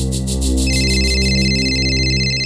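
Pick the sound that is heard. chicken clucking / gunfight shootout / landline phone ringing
landline phone ringing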